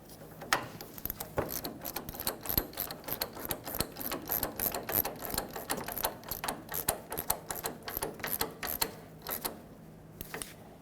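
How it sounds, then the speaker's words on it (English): Ratchet wrench tightening the upper mounting nut of the left inner tie rod on a 2000-2005 Ford Excursion, a long run of quick rhythmic clicking strokes, close and clear, with no talking. "put the mounting nut back on at the top,"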